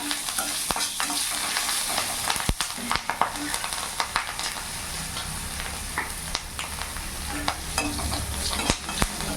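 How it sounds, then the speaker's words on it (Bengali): Bay leaf, whole cumin and slit green chillies fry and sizzle in hot oil, with steady crackling spatter and occasional sharp clinks and scrapes of a stirring spoon against the pan throughout. "ওই তেলের মধ্যে এখানে একটা তেজপাতা দিয়ে দিলাম গোটা জিরে ফোড়নে দিয়ে দিলাম চেরা কাঁচা লঙ্কা দিয়ে দিলাম"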